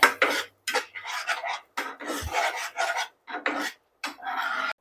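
A spoon scrapes and rubs in a pan as salt is mixed into gravy, coming in repeated short close strokes with brief gaps between them.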